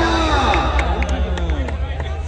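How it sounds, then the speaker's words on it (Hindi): A crowd at a Pakistani kabaddi match claps and cheers steadily, a dense wash of applause with shouting voices layered over it throughout. "तालियां"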